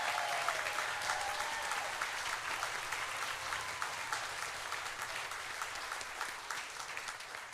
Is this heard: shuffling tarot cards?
no